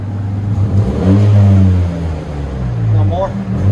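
Up close, a Chevrolet Camaro's engine is revved once, swelling into a deep, loud roar and then easing back down to a steady idle rumble.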